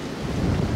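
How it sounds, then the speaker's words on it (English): Strong wind buffets a Sony ZV-1 camera's microphone in a brief, dense low rumble that swells slightly midway, with no talking. "we're staying out of the woods today because it is so crazy windy"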